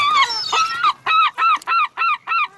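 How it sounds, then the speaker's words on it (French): Gulls circle over southern England, calling loudly and close by in a burst of harsh, nasal cries that settle into a rhythmic series of short repeated calls with brief gaps between them. "Tournoyant dans le ciel du sud de l'Angleterre, les goélands font partie du paysage."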